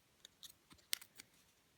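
A few quick, crisp snips of scissors cutting tape, close by and fairly quiet, spaced unevenly with short pauses between them.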